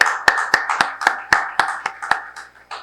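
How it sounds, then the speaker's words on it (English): Steady, fairly close rhythmic clapping welcoming a speaker to the stage at a maternal health panel event, sharp distinct claps at a regular pace, thinning near the end. "A warm round of applause."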